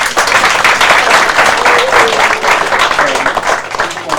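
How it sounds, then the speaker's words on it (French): Audience applause at an inauguration of a women's social house rolls on steadily for several seconds, dense and fairly loud, with scattered voices mixed into the clapping. "Cette dynamique femme mérite nos applaudissements."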